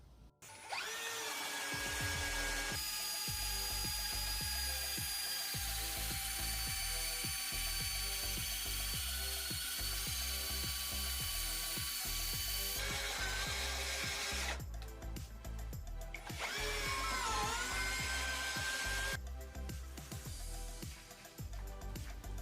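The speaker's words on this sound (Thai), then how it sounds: "ทดสอบเจาะไม้ลึก 22 เซนด้วยดอกขนาด 16มิลจับเวลาใช้หมดเจาะความเร็วรอบเบอร์หนึ่งตัวแรกโอสุกะ" An Osuka cordless drill on its first speed setting bores 22 cm into wood with a 16 mm bit, a loud continuous whirring grind that holds steady for about twenty seconds with brief shifts in pitch.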